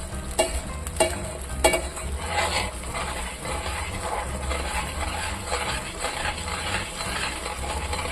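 Thick egg masala gravy bubbles and sizzles steadily in a pan over medium heat, with a few sharp clicks of a utensil against metal near the start.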